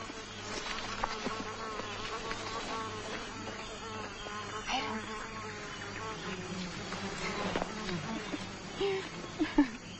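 Bees buzzing around a nest in a tree, a steady faint insect drone that runs throughout beneath people talking nearby.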